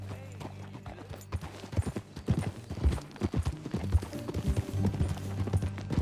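Horse hooves clip-clop in an uneven rhythm in Red Dead Redemption 2, close by, over a low steady drone and faint background music.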